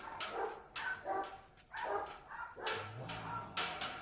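A dog barks several times in short bursts at moderate distance, with loud rhythmic woofs spaced about a second apart over ambient room noise.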